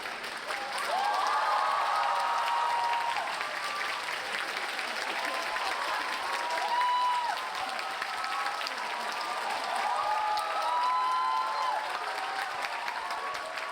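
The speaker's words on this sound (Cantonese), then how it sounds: "以熱烈嘅掌聲歡迎我哋寒氣逼人嘅主角宋康昊先生嚟到台前" An audience at a Hong Kong film festival master class applauds to welcome actor Song Kang-ho on stage: sustained, full-room clapping with cheers and whistles lasting over thirteen seconds.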